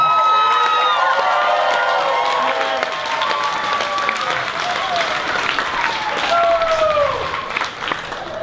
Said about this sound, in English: can we give a round of applause for Zak for putting this together?